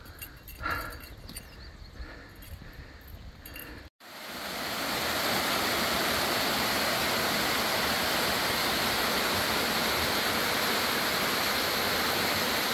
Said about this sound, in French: Et voici la cascade de Kanjoga.